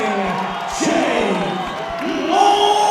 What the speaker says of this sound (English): You can hear the rapturous applause from the hometown support.